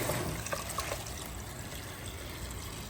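Water pumped through a homemade gold-prospecting pump runs as a steady, fairly quiet trickling and gurgling flow throughout, with a few brief splashes near the start.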